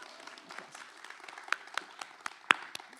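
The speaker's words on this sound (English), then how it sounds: "oh yeah, applause" Applause from a lecture audience as a distinguished professor of practice is about to come on stage: a soft, diffuse patter of many hands with a few sharper claps standing out, fairly distant and faint.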